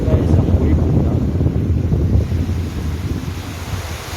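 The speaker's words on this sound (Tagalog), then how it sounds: "ang wave ng dagat" Sea waves surging and crashing onto the shore at a windy seaside, a loud continuous broadband roar with heavy wind buffeting the microphone throughout, easing slightly toward the end.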